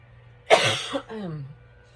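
A single sharp cough, close and fairly loud, followed by a short throaty rasp, then quiet.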